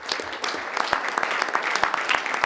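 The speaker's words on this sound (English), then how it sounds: "they deserve a big round of applause" Applause from an audience at a University of Missouri Board of Curators meeting, a dense burst of clapping heard alone and fairly close throughout.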